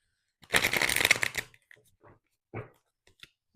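Tarot cards being shuffled, one dense riffling burst up close, followed by a few softer taps and shuffles of the deck.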